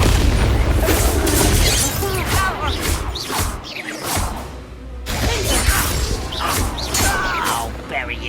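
A Bombarda spell explodes in Hogwarts Legacy with a deep boom and whooshing blast, followed by crackling debris over busy game combat noise, with a second burst of sound after a brief drop near the middle.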